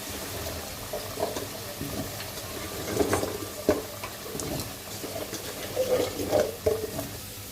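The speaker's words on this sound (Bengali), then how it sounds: "বলক চলে আসলে শালগমগুলো দিয়ে ভালো করে কষাবো" Turnips stirred into a simmering chicken curry in a pan: a bubbling sizzle under repeated wet spoon scrapes and clunks that come in short bursts.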